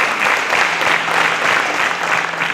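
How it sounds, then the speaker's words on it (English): A studio audience on a quiz show breaks into steady, dense clapping that holds at an even level for the whole stretch, close and full with no voices above it. "A round of applause for him,"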